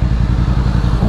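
A cold motorcycle engine idles close by, its low, steady pulsing throb continuous throughout without any voices.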